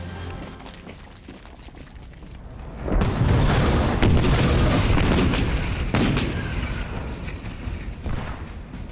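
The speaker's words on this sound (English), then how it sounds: "The big guns of 2 US battleships lead the mass bombardment of the Nazi shore defenses on Omaha." Naval gunfire from two US battleships bombarding the shore defenses at Omaha Beach on D-Day, a dense roaring barrage of heavy booms that swells suddenly and rumbles on continuously, loud and close.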